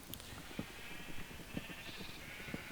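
Sheep in a pen in Minecraft give soft, repeated bleats at a steady pace over a broad, hissy background, fairly faint and with no talking.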